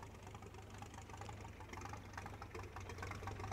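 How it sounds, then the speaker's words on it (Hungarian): A vintage tractor from a 1922 farming simulation game idles steadily, a low mechanical chug with a light ticking knock that holds even and continuous at close range, with no voices. "Ide hallani a traktort. Ahogy ketyeg."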